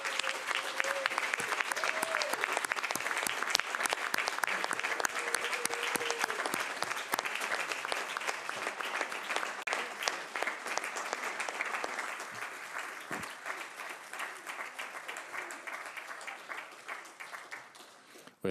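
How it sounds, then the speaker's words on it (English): Applause from the audience at a city metro council meeting, steady sustained clapping lasting well over fifteen seconds and gradually thinning toward the end, heard at moderate distance. "let's give a final round of applause to Councilman Coleman."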